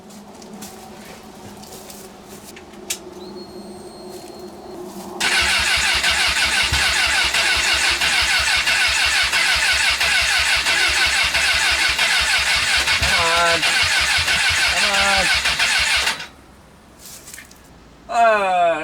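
An overheated, smoking engine cranks on its starter for about eleven seconds, a loud steady whirring grind that stops and then briefly starts again, with no catch.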